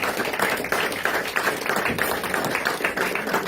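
A church congregation at a consecration service clapping and applauding to acclaim Jesus, dense steady applause from many hands, close and lively, without speech.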